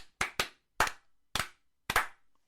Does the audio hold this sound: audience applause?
yes